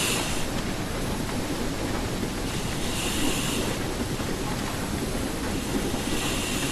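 Train braking in Train Sim World, a steady broadband rumble of rolling wheels and rail noise that holds at an even level throughout with faint hiss on top, no voices.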